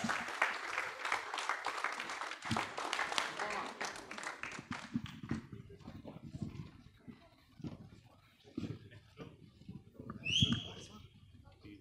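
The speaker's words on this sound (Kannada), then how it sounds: "ಜೋರಾದ ಚಪ್ಪಾಳೆ ಪ್ಲೀಸ್" An audience at a stage event for film stars bursts into loud, dense applause that thins out after a few seconds, leaving scattered claps, faint murmuring and a brief bird chirp near the end.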